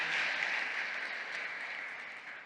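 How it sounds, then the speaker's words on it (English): Audience applause at a workplace summit on stage, a steady dense wash of clapping from a crowd that stays loud and fairly even for the whole stretch, tapering slightly at the end, with no voices over it. "Y'all clap before, clap it up again for the Thanksgiving episode."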